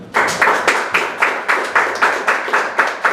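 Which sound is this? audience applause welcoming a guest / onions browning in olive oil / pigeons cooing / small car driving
audience applause welcoming a guest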